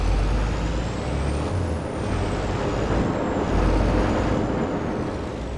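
Semi-truck air brake in the video game Farming Simulator 25, a loud, steady hissing release of air that fills several seconds over the rumble of an idling engine.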